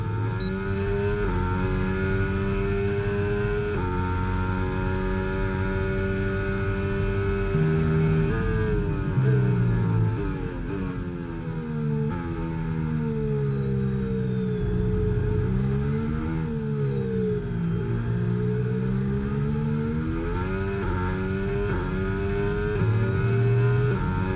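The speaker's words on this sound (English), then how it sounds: "I'll let you guys enjoy a lap with engine sound on softs around Shanghai" An F1 25 video game race car on soft tyres laps the Shanghai circuit, its engine whining continuously near and loud, rising through revs and gear shifts, then dropping and climbing again through corners.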